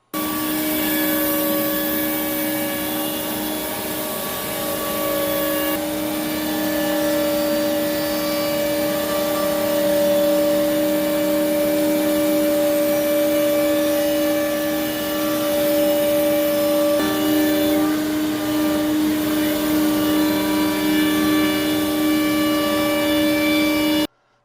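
A STEPCRAFT Q-Series CNC dust collection system runs with its dust boot lowered for production, giving a loud, steady vacuum-like roar with a sustained whine that holds unbroken for the whole stretch, with no voices.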